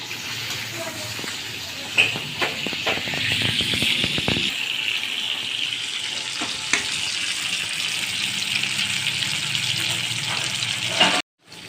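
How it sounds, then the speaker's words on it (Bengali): Rohu fish fries in oil in a wok with a continuous hiss and crackle, a few utensil clatters early on, and the sound stopping abruptly at the end. "মাছটা ভাজা হয়ে গেছে, এখন আমি উঠাই নিচ্ছি"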